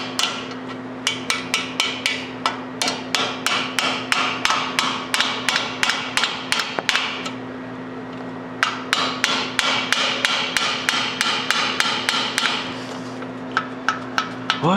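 A hammer taps a lower ball joint into a 1997 Subaru Impreza in quick bursts of sharp metallic strikes, close and loud, with a brief pause in the middle before the rapid tapping resumes.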